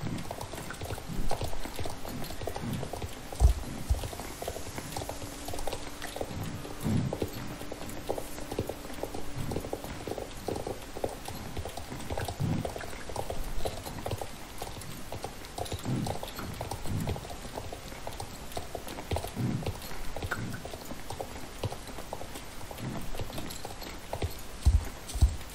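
Horse hooves clip-clop steadily in the riding game Star Stable, a continuous trotting rhythm of soft thuds at close range over a watery, bubbling ambient background, with no talk.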